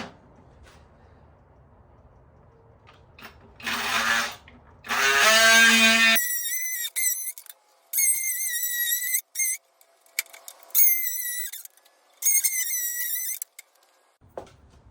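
A small rotary moto tool cutting during engine work, giving a couple of loud harsh grinding bursts followed by a series of high whining runs that start and stop with short pauses between them. There is no talk.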